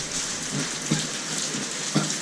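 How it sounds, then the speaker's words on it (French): Steady rain falls outside a hat shop in France, a continuous soft hiss of drops on the street with a few faint heavier taps, fairly close and with no one talking. "Et là, comme il pleut, bah, nous attendons ici."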